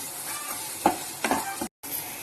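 Masala powder of roasted ground spices stirred into a frying crab rasam base in a pan, giving a low sizzle with a few scraping stirs and a short pause near the end.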